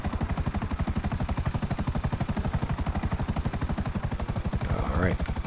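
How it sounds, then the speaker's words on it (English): A helicopter in GTA Online thuds with steady, rapid rotor beats and a whining turbine hum throughout, close and continuous, with a brief swooping sound near the end. "And it's a very capable, very maneuverable helicopter on top of that."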